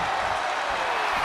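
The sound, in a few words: crowd cheering in a wrestling video game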